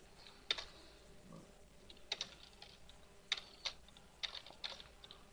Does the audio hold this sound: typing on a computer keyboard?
yes